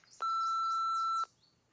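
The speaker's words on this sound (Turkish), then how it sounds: "İşte mesajın sonu ve size bahsettiğim bip sesi." A single steady electronic beep from a telephone answering machine, marking the end of the outgoing message; one sustained tone lasting about a second, clear and close, with no talking over it.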